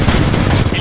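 Rapid explosive bursts from a titan's explosive core weapon in the video game Titanfall 2, a loud continuous barrage of booming shots with dense low rumble.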